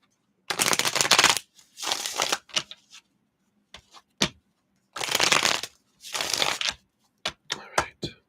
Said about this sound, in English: Let me shuffle these up here.